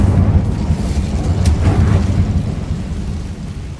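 An Incendio fire spell cast in Hogwarts Legacy gives a loud, sustained rumbling whoosh of flame with a brief crackling burst near the middle, all dense low roar and no voices.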